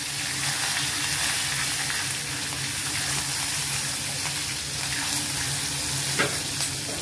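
Asafoetida, curry leaves and green chillies crackle in hot oil for a spinach gravy tempering. The sizzle is loud and continuous, with dense spitting and a few sharper pops, and no talk over it.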